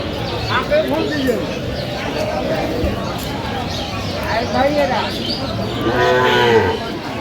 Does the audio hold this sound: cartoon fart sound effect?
no